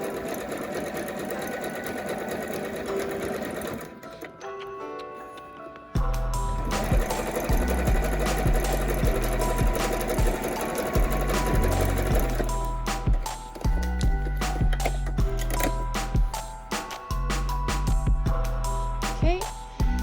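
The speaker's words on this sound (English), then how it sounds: "I'm going to actually use a zigzag stitch here" A sewing machine stitches a zigzag seam on a fabric face mask, its needle clattering in steady, fast bursts with brief pauses in between, up close and alone.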